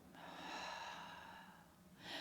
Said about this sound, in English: breathe out through the mouth, bring the belly in